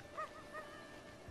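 A cucco, the chicken of Zelda: Breath of the Wild, lets out two short, faint squawking calls over a steady hum of game music.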